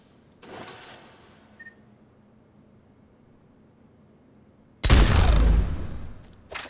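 The Executioner heavy pistol in Mass Effect 3 fires a single loud, booming shot that rumbles and decays over more than a second, after a fainter earlier burst and a brief tick.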